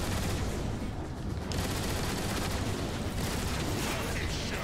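The major gun in the video game Transformers: War for Cybertron fires a loud, unbroken stream of heavy shots with booming impacts, steady and dense throughout with no pauses.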